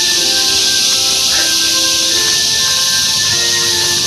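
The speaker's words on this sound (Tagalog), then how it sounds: "rinig nyo ba? Yung tunog ng kagubatan" Dense forest ambience on a sunny day, with a constant loud hiss of insects buzzing in the trees and a few steady tonal drones layered over it.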